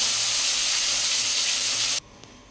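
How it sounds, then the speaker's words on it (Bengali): Tilapia fish frying in hot oil, a steady dense sizzle that holds for about two seconds, then cuts off abruptly to near silence with a faint tick. "এবার মাছটা একটু আমি ভেজে নেব কিন্তু প্রথমে"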